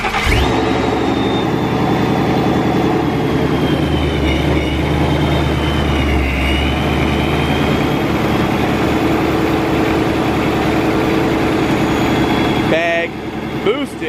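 A Procharger-supercharged Mustang with a boosted wide-body build runs at a loud, steady idle close by, its engine drone continuous, with a brief change near the end.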